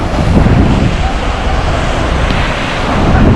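Surf and wind at a beach in Bali, a loud, steady roar of breaking waves blended with wind buffeting the microphone, with no clear talk.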